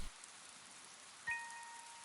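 Soft, steady rain hisses quietly in the video game Paper Lily, with a brief bright tonal chime rising midway and lingering faintly over the rainfall.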